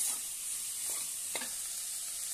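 Green beans and potatoes sautéing in a pan give a faint, steady sizzle. A couple of soft stirring scrapes stand out briefly.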